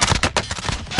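Rapid automatic gunfire in Call of Duty, loud and close, with bursts of sharp shots in quick succession across a second.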